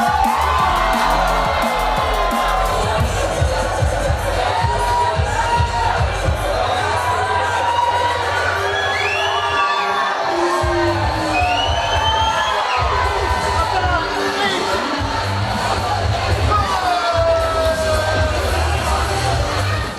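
A wrestling crowd cheers, whoops and shouts continuously at a loud level, with children's voices mixed into the dense roar.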